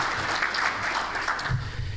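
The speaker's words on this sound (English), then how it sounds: "Just give him applause." Audience at a village address applauds a retiring high school director, a steady wash of clapping lasting the whole stretch, fairly loud and close, with no talk over it.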